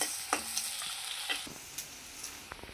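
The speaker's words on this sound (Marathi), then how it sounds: "मध्यम आकाराचा कांदा चिरून घेतलेला ना तो गुलाबी रंगापर्यंत असा परतून घ्यायचा" Chopped medium onion sautés in a pan while onion and chopped nuts are stir-fried for a quick shev bhaji, giving a continuous close sizzle punctuated by a few sharp spatula scrapes and taps.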